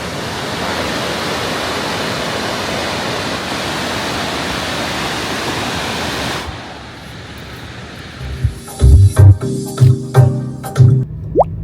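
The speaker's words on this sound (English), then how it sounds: "on this side is where the river drains out into the St. Lawrence River" A river pours out into the St. Lawrence River on Quebec's Gaspé Peninsula, a loud, steady rush of water that stops abruptly partway through. A few short, sharp knocks follow in near quiet.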